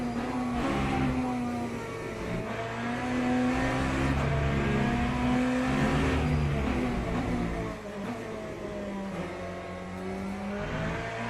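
A BMW race car engine in the Le Mans Ultimate racing game drones steadily and climbs through the gears, with rising and falling pitch and repeated shifts, loud and continuous with no talking.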